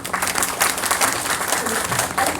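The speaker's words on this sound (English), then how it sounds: "Will you give a loud applause to Professor Ishihama?" Audience applause following the introduction of a professor at an academic lecture on proteomics: a dense, even roar of many hands clapping, loud and close, lasting the whole short stretch.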